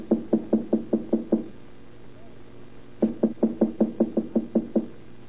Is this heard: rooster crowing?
no